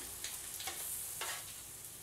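Herb scrambled eggs sizzle softly in a pan, a low steady frying hiss broken by a few brief scraping stirs, with no talking.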